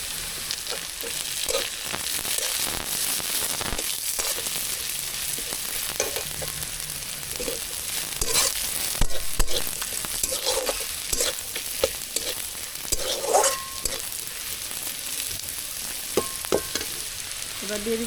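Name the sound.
frying onions with slit green chilies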